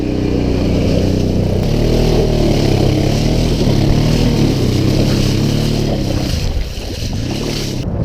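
A motorcycle fords a river in Iceland, its engine droning loud and close at steady throttle with splashing water, revs shifting slightly near the end, no talking.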